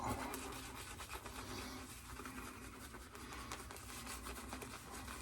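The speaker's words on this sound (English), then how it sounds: "Going to be using the Green Ray PAA shave brush today. It's a synthetic, and I've already kind of lathered up some of the PAA here on" A synthetic Green Ray shave brush works PAA cocoa butter shave soap on the puck, a close, steady wet scratching and swishing that keeps up without a break.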